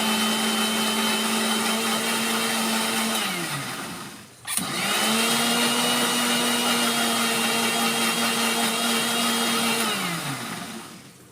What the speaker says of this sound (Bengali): এদিকে মিক্সিতে একটু আদা রসুনটা বেটে